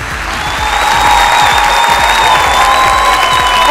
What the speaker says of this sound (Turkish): Alkışlar Batman'e.